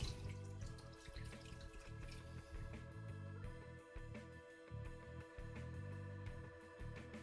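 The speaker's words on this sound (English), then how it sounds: "then we're going to pour our brine mixture on top." Brine mixture with salt and brown sugar is poured from a container over skin-side-down salmon fillets in a bowl, a continuous close splashing and trickling pour with no talk.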